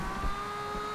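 A 1969 Nissan Fairlady Z engine in the racing game Forza Horizon 2 holds a steady, even drone at high revs during a drift run. It plays alone and stays loud throughout the short clip.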